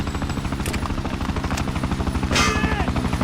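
Loud, steady helicopter rotor chopping in a combat video game, a fast rhythmic thump that continues throughout, with a brief burst of higher noise that sounds like gunfire partway through.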